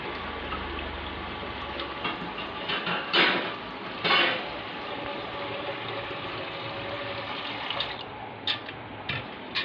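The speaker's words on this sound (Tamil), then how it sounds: "ஒரு இட்லி வைக்கிற மாதிரி தண்ணி ஊற்றிட்டு" Water runs from a tap into a small pressure cooker for boiling potatoes, a steady splashing stream with a few metallic clinks and knocks of the pot, close by in a kitchen.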